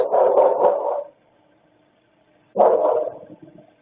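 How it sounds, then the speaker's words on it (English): A dog barks in two separate bursts, the first a quick cluster of barks, then a pause before another round, fairly close and clear. "It's the same barks."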